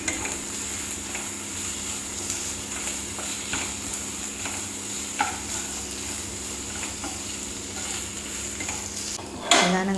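Fried prawns stirred with browned onions and salt in a pan, a steady close sizzle under occasional light scrapes and taps of the spoon, ending with a louder clatter.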